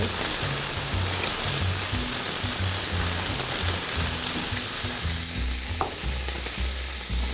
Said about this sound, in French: On va y ajouter nos oignons. Nos lardons.